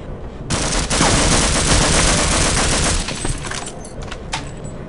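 Rapid automatic gunfire in the game Half-Life, a dense, loud burst of shots lasting a few seconds, then tapering into scattered quieter pops.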